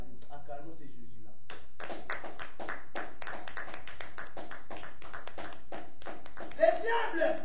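A church congregation bursts into rhythmic applause, with steady claps from many hands continuing for several seconds in a large room. A voice rises briefly near the end.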